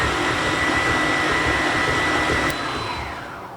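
An electric stand mixer runs for cupcake batter, a loud, steady whirring drone that holds level and then eases slightly toward the end, with no talking over it.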